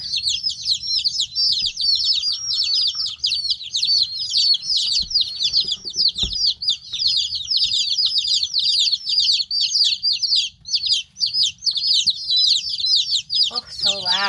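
Naked neck chicks under a brooder warmer, a dense nonstop chorus of shrill high peeps with a few soft clucks, close and loud, with brief quiet talk and handling noises underneath.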